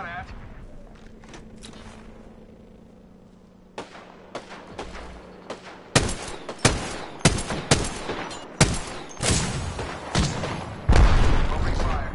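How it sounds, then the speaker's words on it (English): Video game gunfire breaks out in sharp, loud bursts of shots at irregular intervals, with a quieter stretch at first and denser volleys later. "Getting shot at."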